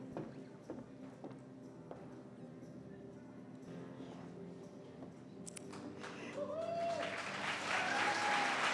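Audience applause for newly qualified CPAs at a ceremony, quiet murmuring that swells into louder sustained clapping toward the end.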